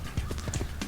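Horse hooves clip-clop in quick succession in Assassin's Creed 2 set in Rome, a brief run of several close, distinct hoof strikes.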